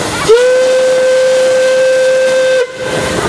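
One sustained steam engine whistle blast at the Darke County steam threshers show, loud and close, holding a single steady pitch for over two seconds amid a hiss, then stopping abruptly.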